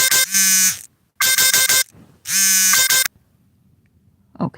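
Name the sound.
alarm buzzer going off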